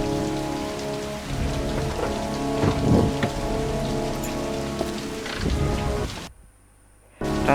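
Steady rain pours with rumbling thunder in the video game Heavy Rain at midnight, a dense continuous wash that cuts out briefly near the end before resuming.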